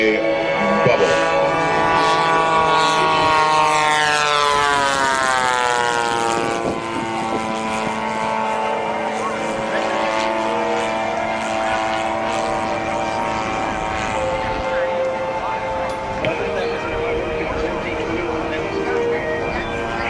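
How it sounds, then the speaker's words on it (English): A P-47, the heavy single-engine World War II fighter, roars loudly through an airshow demonstration pass, its propeller drone rising and falling in pitch as it sweeps by, with the engine noise sustained throughout. "I was just told that this was the heaviest single-seat airplane in World War II."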